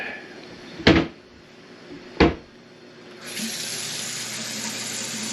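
Tap water runs steadily from about the three-second mark, a continuous hiss of hot and cold water in a house during a snowy Christmas weekend, preceded by two sharp knocks or clunks.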